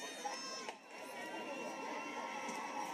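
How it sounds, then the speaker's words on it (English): A lively Thursday night crowd at a softball stadium, with a steady wash of distant chatter and shouting from the stands and no single voice standing out. "Lively Thursday night crowd here at the Plex."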